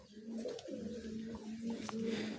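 Pigeons coo steadily in a low, rolling rhythm for a couple of seconds, close by and fairly quiet, with no talk over them.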